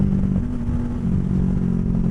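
Bajaj Dominar 400 motorcycle being ridden on a daily commute, a loud, close, steady engine drone with rumbling low tones and wind noise throughout.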